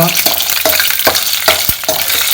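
Dried red chilies, urad dal and coriander seeds fry in a hot pan, with a loud close sizzle and crackle broken by several sharp stirring scrapes.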